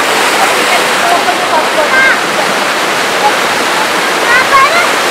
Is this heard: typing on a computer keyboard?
no